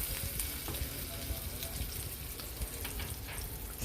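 Butter sizzles and fries steadily in a pan before pineapple chicken is cooked, with a continuous crackling hiss and light stirring scrapes, close and even throughout.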